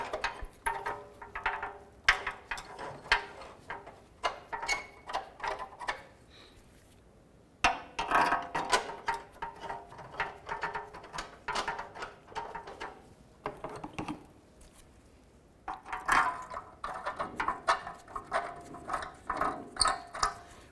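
Ratchet work on bolts for the differential mounting bushings of a 2005-10 Jeep Grand Cherokee: close, quiet bursts of rapid clicking pawl strokes with pauses between runs and occasional metallic clanks.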